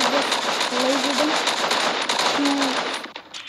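Rapid laser rifle fire in Fortnite battle royale solo play: a dense, continuous stream of shots that holds loud for about three seconds and then thins out, with a faint voice-like tone over part of it.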